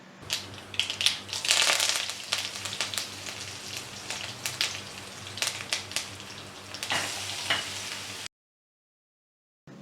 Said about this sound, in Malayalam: വെളിച്ചെണ്ണ നല്ലതുപോലെ ചൂടായി വരുമ്പോൾ അതിലേക്ക് കടുക് ഇട്ട് കൊടുക്കാം